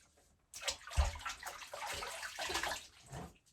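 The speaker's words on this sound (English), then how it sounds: "I like to rinse off between passes." Water splashing and sloshing during a rinse between wet-shaving passes, a few seconds of continuous running and splashing up close with a low thump near the start.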